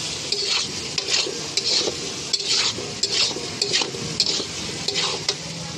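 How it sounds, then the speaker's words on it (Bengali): Spice-marinated banana flower stirred in a pan for mochar ghonto, a spatula scraping in steady repeated strokes over a soft sizzle, close and fairly loud with no talking. "এটাকে একটু ভালো করে নেড়ে নেব।"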